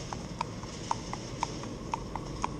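A cob horse's hooves clip-clop at a steady walking rhythm on a hard surface, evenly spaced clops over a constant background hum.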